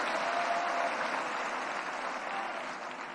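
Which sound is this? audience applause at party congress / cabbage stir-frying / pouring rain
audience applause at party congress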